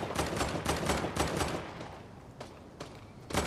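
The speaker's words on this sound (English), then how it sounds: "I hear somebody shooting." Bursts of rapid gunfire in the video game Fortnite, loud and close. The first half is dense and sustained, and sharper separate volleys follow in the second half.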